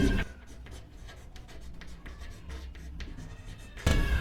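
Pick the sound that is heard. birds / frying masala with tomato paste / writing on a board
writing on a board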